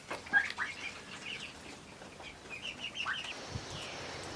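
Young chicks moved to a farmhouse homestead coop, giving faint scattered chirps and brief bursts of wing flapping against a low rustling background.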